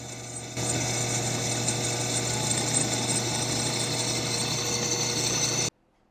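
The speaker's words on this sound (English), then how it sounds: "then we just torque down the bolts at the bottom, the connection point of the arch and the anchor" Steady, loud power tool whirring continuously while torquing anchor bolts at the base of greenhouse arches, close up and alone, cutting off abruptly near the end.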